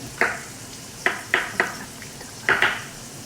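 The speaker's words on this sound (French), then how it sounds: "Et vous mettez les échalotes dedans avant les champignons. Vous mettez cuire les champignons." Shallots and mushrooms cook in a pan as a utensil knocks against the metal in about six sharp clinks, close and distinct, over a faint, low background hiss.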